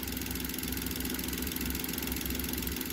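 A Suzuki DA17V minivan engine idles steadily at around 800 rpm, a continuous close-up rumble with an even, unbroken drone and no voices.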